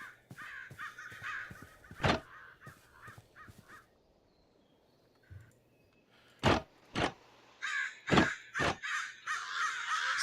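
Crows caw loudly in Minecraft, harsh calls coming in clusters and then in strong separate bursts, with a quiet stretch between them.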